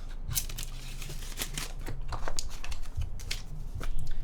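Keys clack rapidly on a custom Roze 65 mechanical keyboard with a blue-grey case, a dense run of crisp close taps at a quiet level, without speech.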